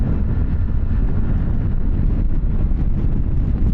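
Loud, steady wind roar buffets the microphone while riding a 2024 Triumph Tiger 900 GT Pro motorcycle, a dense low rumble filling the whole stretch with no let-up.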